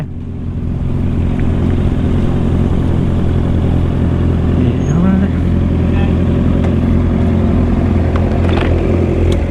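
A Yamaha YZF-R6 sport bike accelerates hard in third gear, its engine note loud, close and climbing steadily, with a second motorcycle running alongside.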